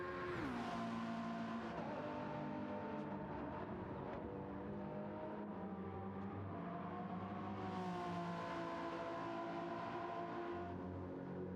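Toyota GR 010 hybrid race car engine in a racing simulator at Monza, a steady loud drone with harmonic tones that rise and fall through gear changes, continuous and close throughout with no talking.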